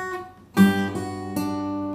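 Guitar strummed in two chords from a song, ringing clearly and close with no talking over it.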